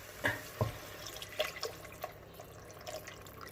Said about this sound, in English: So remember that stock we did earlier? We're going to pour that in.